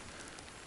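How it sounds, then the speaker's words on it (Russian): Steady rain falls in a forest near an abandoned hut, a dense, even hiss of drops filling the short moment with no voices over it. "Начался дождь, полным ходом дождь идет."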